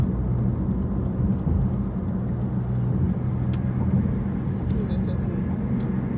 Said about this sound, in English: My car is jerking like a mug